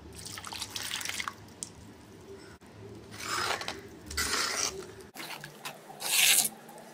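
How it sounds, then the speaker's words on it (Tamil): Drained cooking water poured into mashed keerai dal: uneven splashing and trickling in bursts of varying strength, close by and without talk. "வடிச்சு வச்ச தண்ணியை இதில் சேர்த்துக்கலாம்."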